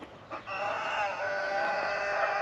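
An Indian breed rooster crows in a long, strained call close by, with chickens clucking faintly around it in a hobby coop.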